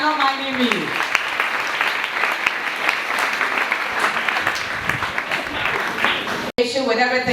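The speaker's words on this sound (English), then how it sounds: "A round of applause, ladies and gentlemen." An audience breaks into loud, sustained applause, many hands clapping densely for several seconds; a voice speaks briefly at the start, and after a sharp cut near the end a voice returns over the clapping.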